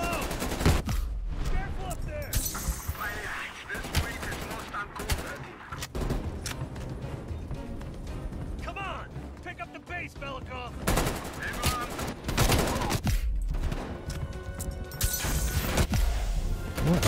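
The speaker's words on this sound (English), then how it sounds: "They're shooting me before I could even see them." Enemy gunfire in the video game Call of Duty Black Ops Cold War, with loud, repeated bursts of automatic shots and sharp cracks that come in uneven waves. Other game noise fills the gaps between the volleys throughout.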